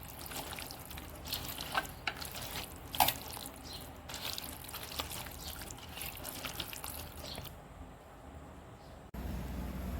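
Onions fry in hot oil for a chicken dum biryani, giving a continuous soft sizzle with occasional crackles and the light clatter of stirring.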